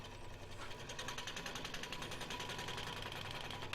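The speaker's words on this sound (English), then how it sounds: "Again, just right back on the pin saw." Pin saw trimming a Micarta knife handle to size, a steady rapid reciprocating buzz with fast regular stroke pulses throughout, faint and continuous.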